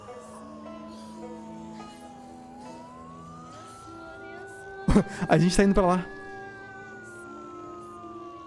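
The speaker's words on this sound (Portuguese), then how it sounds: "E a sirene foi ligada" A prison alarm siren in the zombie survival game Project Zomboid, a long steady wailing tone gliding slowly up and down across the whole stretch, with someone talking over it and a brief burst of louder voices midway.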